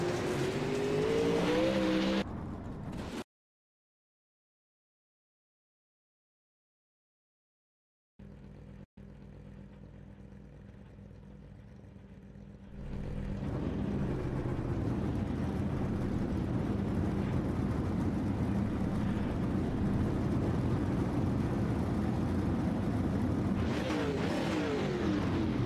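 Race cars in a heat race. A loud, steady engine roar builds after a silent gap and holds through to the end, with a brief high revving pass near the start and near the close.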